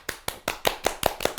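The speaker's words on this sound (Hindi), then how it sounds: "तो तालियां" Audience clapping in a slow, even rhythm of about seven sharp, distinct claps, close and clear with no talk over them.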